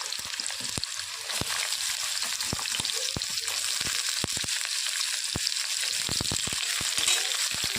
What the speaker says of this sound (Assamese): এতিয়া মই কাটি লোৱা পটল আৰু আলুখিনি অলপ সময় ভাজি ল'ম ভালদৰে।